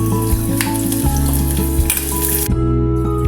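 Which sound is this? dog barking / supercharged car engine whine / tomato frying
tomato frying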